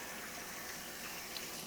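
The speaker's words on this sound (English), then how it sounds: "Just give them a little rub under some cold water." Peaches rubbed and rinsed under cold running tap water, a steady, soft, continuous splashing rush close by, with no voices.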